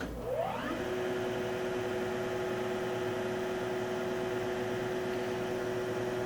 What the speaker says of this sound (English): The grinding spindle.